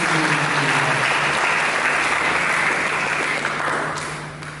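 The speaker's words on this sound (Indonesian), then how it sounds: "Mari kita berikan tepuk tangan untuk mereka" A church congregation at an Indonesian sermon gives sustained applause as a full, dense roar that holds steady and then fades slightly at the end, with a low hum underneath.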